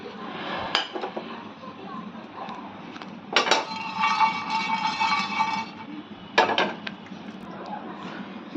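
Whole spices for mutton are dry-roasted in a hot pan, heard as clinks and knocks of utensil against pan in scattered bursts, with a brief sustained scraping in the middle and a faint voice now and then.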